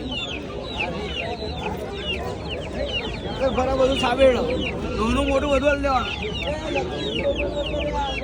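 Aseel chickens cluck and squawk steadily at a busy Sunday market in Ahmedabad, with someone talking over them throughout.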